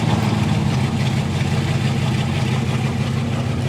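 Chevrolet S10 pickup truck engine running at a steady idle, a loud, close, continuous low rumble with no talking.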